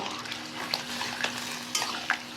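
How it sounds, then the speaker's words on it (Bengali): Sukto vegetables being stirred in a pan with water added: soft scraping strokes and a few light metallic clinks of a spoon over a gentle simmering hiss, close and quiet. "যে 1 বাটি জল নিয়েছিলাম সেটা দিয়ে এবার ভালো করে কিন্তু আমি নাড়িয়ে নেব"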